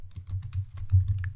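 Quick, close keystrokes on a computer keyboard tap out in an uneven, rapid rhythm over a faint low hum, with no voices.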